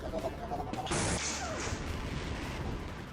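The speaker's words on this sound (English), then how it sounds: "so I have to rely on the Tau cannon" A Tau cannon fires in Half-Life, a sharp, loud blast about a second in with a bright hissing crackle that trails off, over steady game background noise.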